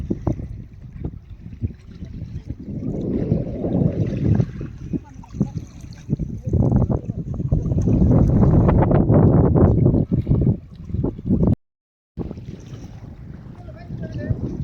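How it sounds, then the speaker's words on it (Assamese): Water of the Brahmaputra river near Nalbari washes and churns along the bank, a broad rushing sound heavily mixed with gusty wind rumble on the microphone, while a person talks nearby. "শব্দটো শুনকচোন, কি ধুনীয়া শব্দ পানীৰ।"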